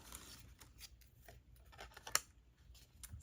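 Scissors snip cardstock in a quiet crafting session, soft irregular cuts with one sharper snip partway through, close and faint, with no talk.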